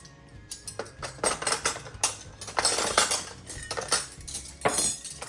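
A big metal serving spoon and other cutlery are put away in a farmhouse kitchen. The sound is a rapid series of close, bright clinks and rattles of silverware knocking together, with no talking.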